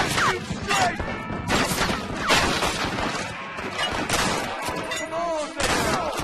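Gunfire in Red Dead Redemption on Xbox 360, a chaotic stretch of overlapping shots, crashes and impacts from a frontier shootout, dense and continuous with loud bursts throughout.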